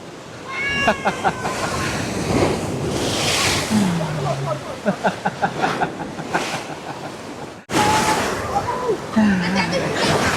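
Ocean surf rushes and roars steadily with wind buffeting the microphone, while voices call out and exclaim over the water.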